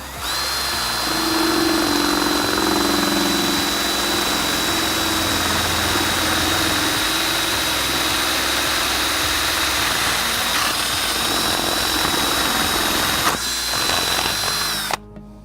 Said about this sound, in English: get your 3/4 inch spade bit or hole saw and get the hole bigger